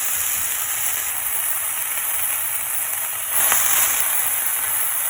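Onions and chopped peppers fry in oil in a pan, giving a steady, fairly quiet sizzle and hiss that swells briefly louder partway through, with no talking.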